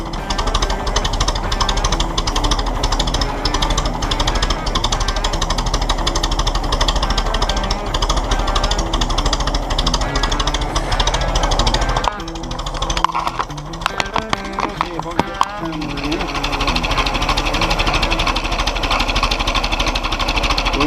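An old tractor engine idles steadily and loudly, a continuous knocking chug that stays close throughout, briefly dipping and roughening for a few seconds near the middle before settling back.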